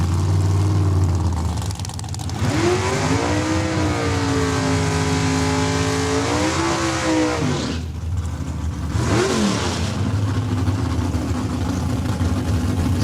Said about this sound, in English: And that's Travis McBain warming up the rear tires.